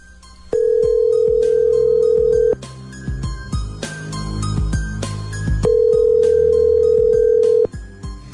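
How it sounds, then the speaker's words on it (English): A telephone ringback tone sounds as a call is placed, two long steady tones about two seconds each separated by a pause, loud and close, with faint background clatter between them. "Okay, so let's call Dan when we come back next"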